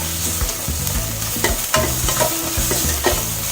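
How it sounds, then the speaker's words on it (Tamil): Ginger garlic paste frying with onions in a pan while being stirred, a loud close sizzle broken by repeated scraping stir strokes in an uneven rhythm, with no talking. "இப்போ நம்ம இஞ்சி பூண்டு பேஸ்ட் போடுறோம். அதையும் கொஞ்சம் வதக்கிக்கோங்க."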